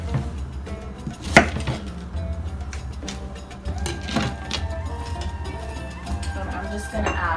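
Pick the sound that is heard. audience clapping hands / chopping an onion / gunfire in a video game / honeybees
chopping an onion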